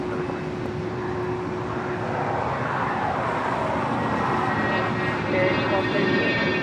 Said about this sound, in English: It's a Hawker 125 departing to Los Cabos.